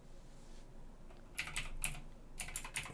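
Keystrokes on a computer keyboard entering a username and password, a few soft isolated taps followed by two quick bursts of clicky presses, close and fairly quiet with no talking.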